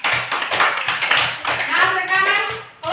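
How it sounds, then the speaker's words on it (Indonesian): A classroom group claps for a student team after a coaching session, a brief burst of hand claps with a voice speaking over it. "Tepuk tangan dulu untuk kelompok 2."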